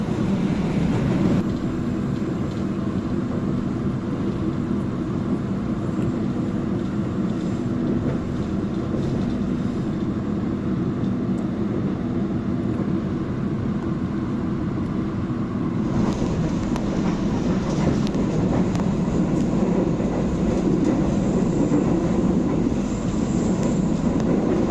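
The KA Parahyangan executive train from Gambir runs nonstop at speed, giving a continuous, steady rolling rumble with rattling wheel and carriage noise that holds throughout, its texture shifting slightly partway through.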